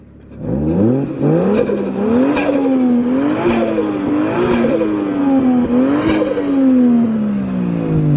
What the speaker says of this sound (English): See, the blow-off valve kind of goes off at higher boost levels.